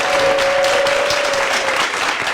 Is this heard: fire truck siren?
no